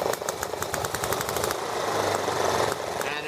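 A small ET8 engine runs with its main carburettor needle closed all the way, putting out a rapid, rattling, steady putter that is close and loud, with a slight shift in pitch near the end.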